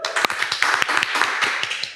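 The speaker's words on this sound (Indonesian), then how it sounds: "tepuk tangan dulu" A small group claps rapidly and irregularly, sharp overlapping hand claps close by, sustained for a couple of seconds like brief applause.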